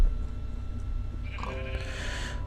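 A sheep bleats in Minecraft, a single drawn-out bleat partway through over a steady low background hum, fairly clear and unaccompanied by talk.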